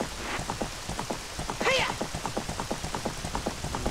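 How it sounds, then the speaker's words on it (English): Rain in the video game The Legend of Zelda: Ocarina of Time, a steady patter of drops falling in an even rhythm, fairly loud and continuous, with a brief higher tone partway through and no talking. "It's raining."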